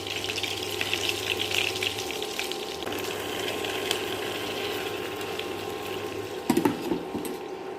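Ground masala goes into hot oil with mustard seeds for paneer butter masala, producing a steady, even sizzle that holds throughout, with a brief knock of a utensil near the end.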